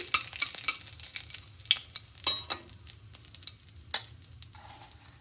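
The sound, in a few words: whole cumin seeds and bay leaves frying in oil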